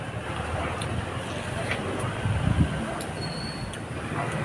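Strong wind rushes steadily through a mango tree, a dense, continuous blustery roar buffeting close to the microphone with slight gusting swells.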